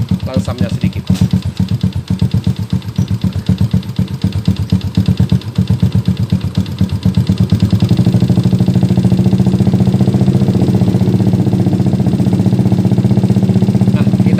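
An old Yamaha MX motorcycle engine idles with a rapid, even put-put clatter, then the throttle is raised slightly and the note thickens into a louder, steady hum that holds to the end.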